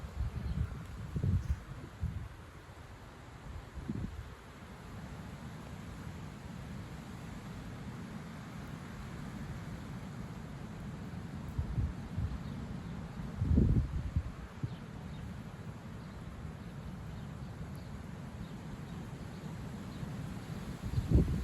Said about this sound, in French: Ah, il y a quand même un peu de vent là.